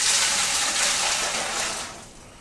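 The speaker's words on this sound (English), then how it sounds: "So I'll just pour that in" Juice gushes and splashes steadily into a bucket for homemade wine, a broad rushing pour that tapers off toward the end.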